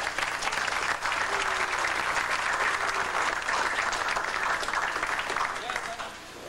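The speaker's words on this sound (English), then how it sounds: "Could we please give the administration staff a round of applause?" Sustained applause from an audience at a Latin Express Orchestra concert inside Grafton Correctional Institution in Ohio, steady and dense throughout with faint voices mixed in, easing slightly at the end.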